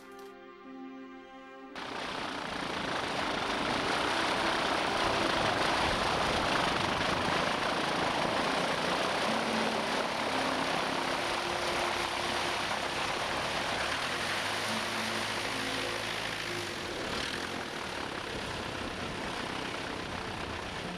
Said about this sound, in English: Robin brought the aircraft back to Rencombe for a perfect landing